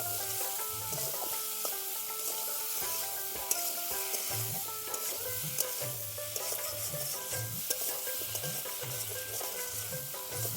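Shrimp fry with taro, spices and salt in a pan while being stirred, giving a constant close sizzle broken by the rhythmic scrape and clack of the spoon.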